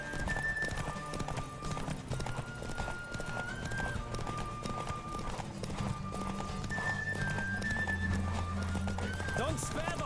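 Hoofbeats of a galloping horse in The Witcher 3 pound steadily and close for the whole stretch, with a brief whinny, under in-game voices and music.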